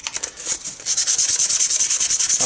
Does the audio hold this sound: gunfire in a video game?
no